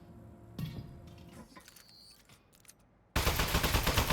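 Gunfire erupts in a video game after a stretch of scattered clicks and mechanical sounds, ending in a sudden loud, dense burst of rapid shots.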